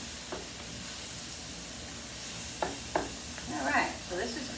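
Cheesesteak meat with peppers, onions and mushrooms sizzling in a hot pan, a constant frying hiss with a few sharp spatula scrapes and stirring clatter toward the end, while a person talks now and then.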